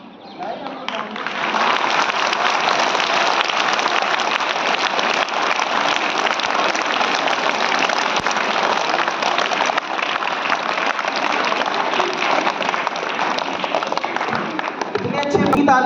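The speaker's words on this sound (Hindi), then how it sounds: "इतनी अच्छी तालियां, एक बार जोर से ताली बजाइए।" A school audience at a Mother's Day program at Guru Gorakhnath Vidyapeeth in Bharohiya, Peppeganj, breaks into loud, sustained applause, rising within the first second or two into a dense, steady clatter of many hands that carries on throughout.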